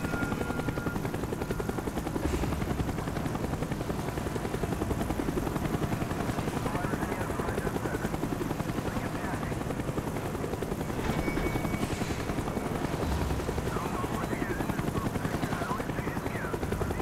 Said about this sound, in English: Avoid the helicopter spot.